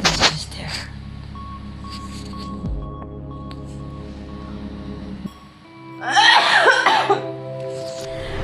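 A COVID-19 patient coughs at the start, then a low hum, followed by a rough burst of coughing and throat clearing close by.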